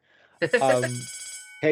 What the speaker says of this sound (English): Around the schedule and around the bell, which we can now hear ringing.